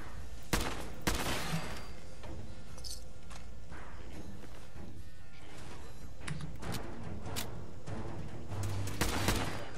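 Gunfire from a Fallout 4 fight crackles throughout, bursts of sharp shots and impacts at moderate loudness beneath a busy game soundscape, with a player's brief voice now and then.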